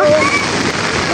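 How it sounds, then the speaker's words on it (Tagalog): Rain beginning to pour with water sloshing outdoors during a storm with rough waves, a dense steady hiss of falling water, loud and close. "Ayan na ang ulan oh"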